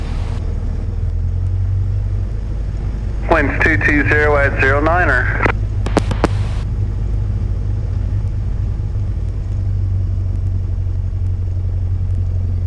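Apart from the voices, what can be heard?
Cessna Skyhawk light aircraft engine while taxiing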